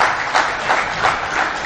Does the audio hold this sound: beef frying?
no